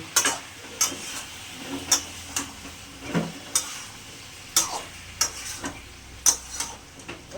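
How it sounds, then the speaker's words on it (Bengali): Ginger and green chili paste sautéing in a pan for a gourd, potato and lentil-fritter curry, a low sizzle under regular spoon scrapes and taps about once a second, close and without talk. "আদা লঙ্কা বাটা ওটা দিয়ে দিলাম। ভালো করে কষিয়ে নেব।"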